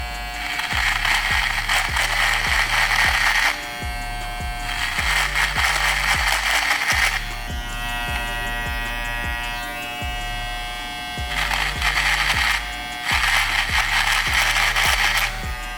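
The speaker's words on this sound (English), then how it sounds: "So I'm about to go in with the Supreme Trimmer T-Shaper Recharge." A Supreme Trimmer T-Shaper Recharge hair trimmer buzzes steadily, its pitch and loudness rising and dropping in repeated passes as it runs through a bristle brush, close up with no talk.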